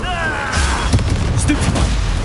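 Confringo blasting curse in Hogwarts Legacy, a loud booming explosion burst with crackling impacts following a rising magical whoosh, amid game combat.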